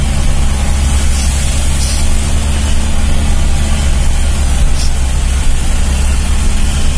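A car engine drones loudly and steadily for about seven seconds while the car is driven downhill and shifted from second into third gear, with heavy low rumble and no talk.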